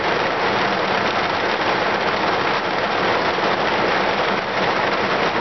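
Heavy rain pours down outdoors, a loud, dense, unbroken hiss of falling water that stays steady throughout and drowns out everything else.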